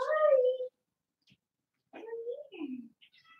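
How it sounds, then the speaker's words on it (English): A cat meowing near the microphone, giving one drawn-out meow followed by a quieter two-part meow after a pause, with nobody talking. "She's meowing."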